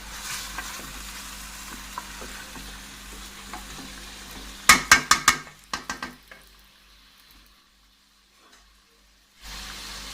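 Beef nihari masala fries in a pot over high heat, with a soft sizzle and light stirring, then a burst of loud clanking scrapes against the pot before the sound drops almost to silence and the sizzle briefly returns at the end.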